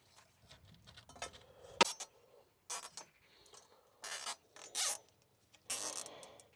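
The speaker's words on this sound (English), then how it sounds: "I'm going to add 2 zip ties here to the bolts so it doesn't move." Zip ties ratcheting tight around bolts on the engine of a 40-year-old VW Golf during a timing belt job, several short, close zipping bursts separated by quiet pauses.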